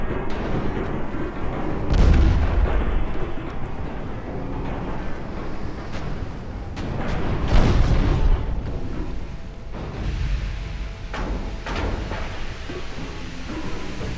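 Battleship main gun rounds in Ultimate Admiral Dreadnoughts, heard from the receiving end: heavy booming impacts and rumbling blasts recur over a constant wind-like roar, with the loudest hits near the start and midway.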